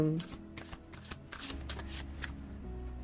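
Tarot cards are shuffled in a series of papery riffles and soft slaps, close and fairly quiet, with a person's voice murmuring faintly underneath.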